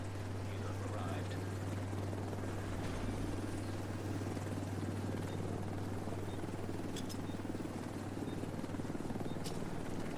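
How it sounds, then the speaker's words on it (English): Extraction helicopter arriving in the video game The Division 2, a steady low rotor drone with a constant hum, faint and continuous throughout, with occasional game sound blips. "Helo arrived."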